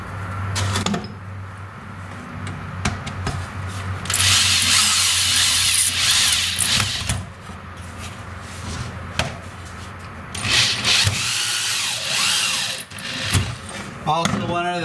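Power drill driving galvanized wood screws into a 55-gallon drum for a deer feeder, in short loud whirring bursts separated by pauses, with a person talking between runs.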